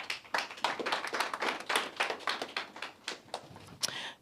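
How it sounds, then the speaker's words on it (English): Sparse audience clapping at a product launch event: a modest number of hands clapping unevenly at close to middle distance, fairly quiet and irregular, without cheering. "Ladies and gentlemen, a round of applause."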